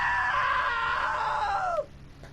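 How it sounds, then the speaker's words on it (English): A woman's long, loud scream in the What Remains of Edith Finch video game rings out alone, holds steady, then drops sharply in pitch and cuts off abruptly, leaving quiet behind. "Now that was a great scream."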